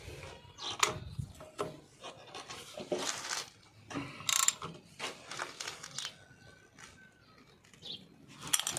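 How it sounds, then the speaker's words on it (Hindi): A ratchet tightens a 19 mm nut on a Maestro scooter clutch during a repair, producing a series of short, close clicking bursts in uneven rhythm, with faint bird chirps in the background and no talking. "19 नंबर का इसका नट होता है, इस नट को कस लेंगे"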